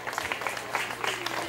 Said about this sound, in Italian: Eccoli qua, accogliamoli con un applauso.